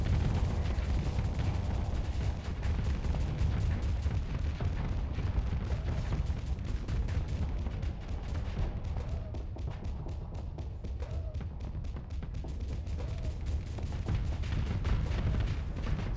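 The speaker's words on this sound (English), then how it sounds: "Maybe flying in front of that thing with two Mark 9 cannons is not a good idea." Mark 9 cannons blasting in a space combat video game, a dense, continuous barrage of heavy booming shots and bursts that stays loud throughout with no pauses.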